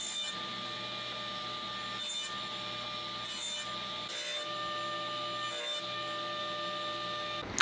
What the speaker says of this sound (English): I put a zero clearance insert plate in my table saw so these slices wouldn't drop down in there.